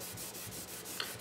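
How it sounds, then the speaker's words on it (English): A dry towel rubs crayon wax off a tabletop in a close, soft, steady scrubbing with a rhythmic back-and-forth swish, quiet and without any talking. "And going along with a dry towel, works best with the wax"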